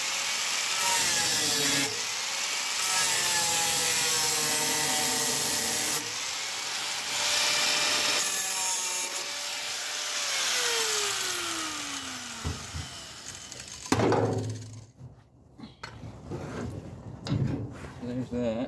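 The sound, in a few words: cutting into a rusted fuel tank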